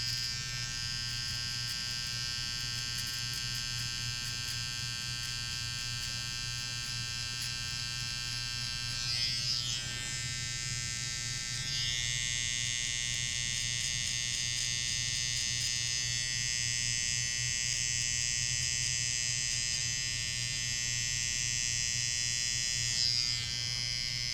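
An electric hair trimmer cutting hair at a barber session, a loud close continuous buzz that shifts pitch slightly as the blades move through hair, with no speech.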